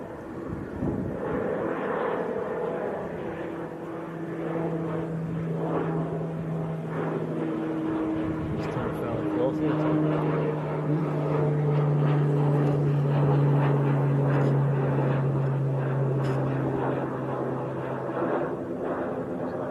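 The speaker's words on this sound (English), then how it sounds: "Little PC12 just departing as well." Departing Pilatus PC-12 single-engine turboprop at Manchester Airport, a droning propeller hum with rising and falling tonal buzz over airport rumble, moderately distant and without talk.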